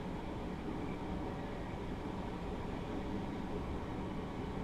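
A Class 313 electric commuter train running on the Moorgate to Welwyn Garden City line in Train Simulator 2017 gives a steady, faint cab rumble with even broadband noise and no talk throughout.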